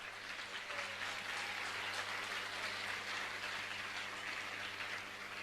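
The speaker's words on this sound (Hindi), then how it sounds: "एक बार दोनों हाथ ऊपर उठा करके जोरदार तालियां तो बजाएं।" A large audience applauds at a religious discourse gathering, a dense continuous wash of clapping, somewhat distant and steady for several seconds with no talk over it.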